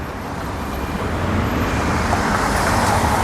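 Cars passing in street traffic in Sofia, Bulgaria, a broad continuous roadway rumble and tire hiss that swells slightly as vehicles go by nearby.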